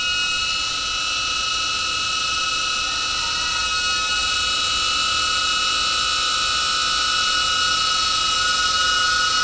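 A DJI Avata drone fitted with HQProp propellers flies with a constant high-pitched whine and steady buzzing hum, sustained and fairly loud throughout.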